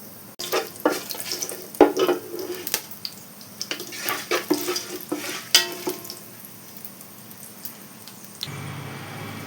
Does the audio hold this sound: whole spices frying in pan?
yes